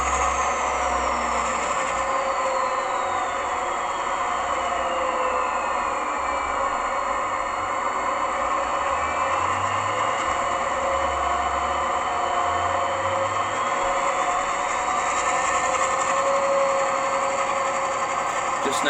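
Class 68 diesel locomotive DCC sound file with the engine note steadily rising and falling through its rev range, a continuous droning, whining hum with gliding pitch sweeps, heard alone and fairly loud.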